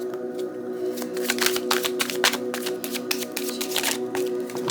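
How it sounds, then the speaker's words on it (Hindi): Tarot cards are shuffled close up in a dense, crisp flurry of riffling and slapping that runs continuously for several seconds, loud and with no voice over it. "आज कुछ शफल कर लेते हैं।"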